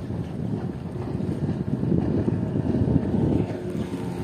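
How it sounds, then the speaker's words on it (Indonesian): A boat passes by on the water, a low rumbling wash of engine and water rising and falling over several seconds, mixed with wind buffeting the microphone. "ada perahu lewat lagi"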